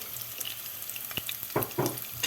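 Onions fry in sunflower oil with a bright, crackling sizzle, and a few sharper scraping clatters of stirring come close to the pan near the end. No one speaks.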